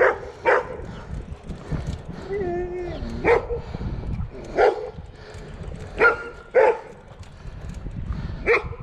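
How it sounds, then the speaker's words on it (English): Several dogs bark outdoors at a passing bicycle trailer, a series of loud, close, irregular barks with a brief whine in between, while a rider speaks intermittently. "They're nice dogs, but every time I try to ride past here, they always want to try and grab the trailer."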